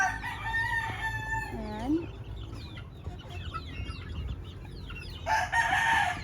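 A purebred White Kelso rooster crows loudly nearby while hens cluck and squawk around it, with a busy mix of other bird calls in the background.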